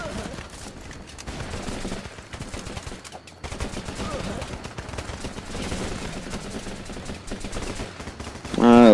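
Sustained rifle cover fire in the war game Running With Rifles, rapid overlapping bursts of gunshots and machine-gun fire rattling continuously, loud and near, with a brief lull midway.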